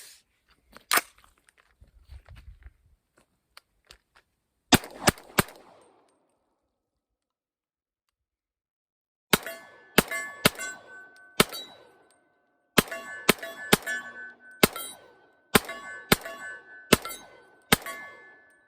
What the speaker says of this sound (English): So I'm going to shoot a couple just into the berm.